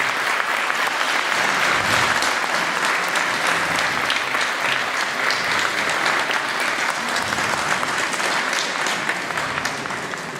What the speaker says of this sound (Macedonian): А може да ја охрабриме со аплауз.